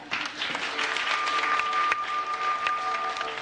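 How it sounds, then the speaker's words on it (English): Audience applause on a Universal Studios tour, a dense, steady wash of clapping from a crowd that carries on for a few seconds without a break. "Everybody, big round of applause for Brad"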